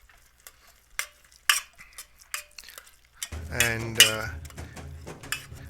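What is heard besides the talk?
ladle mashing cooked rice and dal in a pot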